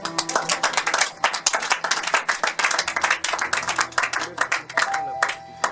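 A church congregation claps in steady rhythm in praise of the Lord, many hands striking together in a loud, even beat, with voices faintly underneath.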